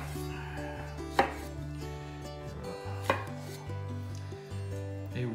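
Italian tomatoes being cut into quarters with a knife on a board, a few distinct chopping thunks spaced out under steady background music, close and fairly quiet.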